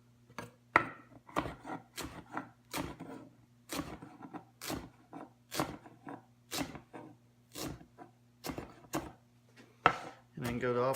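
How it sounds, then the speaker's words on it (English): Fresh cilantro, rolled up, is chopped with a knife on a wooden board for pineapple salsa in a steady rhythm of crisp taps, about a dozen in quick succession, with a low background hum throughout. "Just kind of roll it up a little bit so you can run your knife through it"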